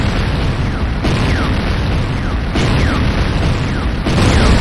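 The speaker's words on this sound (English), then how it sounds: "GDI Tiberium refinery destroyed" Repeated heavy building explosions in the video game Renegade, several loud booming blasts rolling one after another with continuous rumbling debris filling the space between them.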